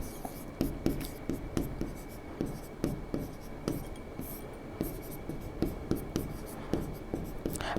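Quick, rhythmic pen or marker strokes on a board during a Class 10 chemistry lesson on chemical equations. Close scratching taps repeat steadily with no talk over them.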